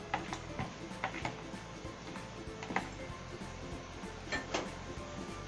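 A spoon stirs cooked bottle gourd into buttermilk for raita, giving light, scattered clinks and ticks against the bowl at low volume, with no talk.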